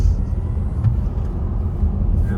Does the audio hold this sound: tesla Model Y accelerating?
yes